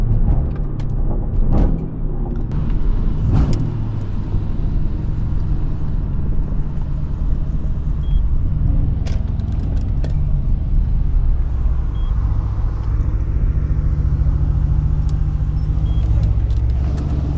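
Low, continuous engine rumble from Mercedes-AMG cars cruising on back roads, heard steadily throughout with some road noise and faint knocks early on.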